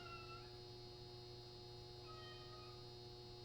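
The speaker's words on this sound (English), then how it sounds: "if the cat quits meowing" A cat meows in the background at a quiet indoor spot with steady mains hum, with two brief calls about two seconds apart that are faint, short and partly buried under the hum.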